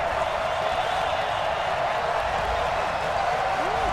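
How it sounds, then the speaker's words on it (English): A packed stadium crowd of Raiders fans in Oakland roars steadily in Madden NFL 20, a dense, loud, continuous wash of cheering throughout. "This crowd in silver and black, they are fired up as their Raiders get set to face off with the Los Angeles Rams."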